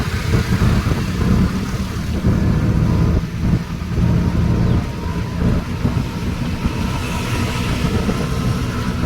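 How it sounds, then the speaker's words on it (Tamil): A train passes at a festival site, a loud, steady low rumble and rolling clatter that lasts throughout, with no talking over it. "ட்ரெயின்லாம் போகுது."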